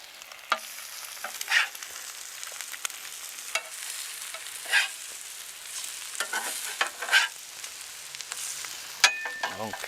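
Eggs and tortillas sizzle on a Blackstone portable griddle during van-life cooking, a soft continuous frying hiss broken by brief spatters and scraping clicks, with no talk.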